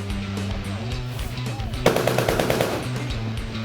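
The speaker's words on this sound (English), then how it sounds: "warning shots, fire." Rapid bursts from a machine gun aboard a Royal Canadian Navy warship firing warning shots, a steady rattling stream of close, loud reports over constant engine and wind noise.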